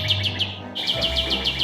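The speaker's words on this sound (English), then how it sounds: "The birds are loud." Small birds chirp loudly in quick repeated bursts, a rapid series of sharp high tweets close by, breaking briefly before resuming in an even rhythm.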